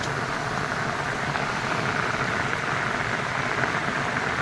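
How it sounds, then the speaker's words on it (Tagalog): Dense, steady rain pours down outdoors near a chicken coop in a constant heavy hiss with no breaks, close and loud. "Lumalakas na ulan."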